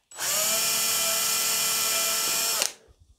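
A power drill bores through a guitar control board in one steady, continuous run of about two and a half seconds, loud and close, then stops abruptly.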